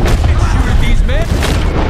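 Gunfire in a Red Dead Redemption 2 shootout, dense and loud, with booming shots that run on without a break and pile together over a noisy battle din.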